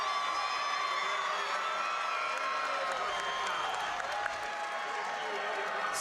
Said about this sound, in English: the crowd can feel it now. Heard that roar after that huge board